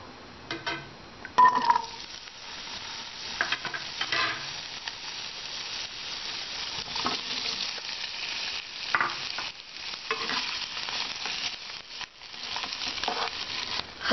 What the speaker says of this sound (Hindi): मैंने कढ़ाई में 2 टेबलस्पून सरसों का तेल गरम किया है। इस तेल में हम आलू और गोभी को हल्का ब्राउन होने तक भूनेंगे।